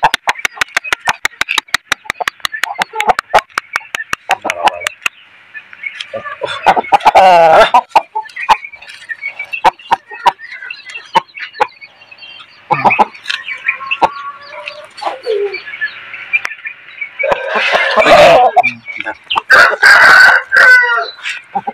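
A rooster of about 3.5 kg clucks in rapid close bursts, then crows loudly several times, with people talking briefly between the calls.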